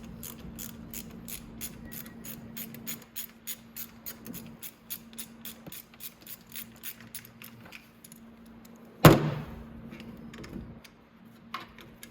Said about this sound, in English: I'll take this 8 mil out.